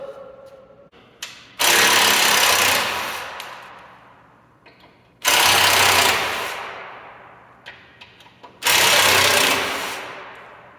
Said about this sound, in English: the 3 Bronco bolts underneath the front of the bumper here that we just have to take out, which is a number 40 Torx bit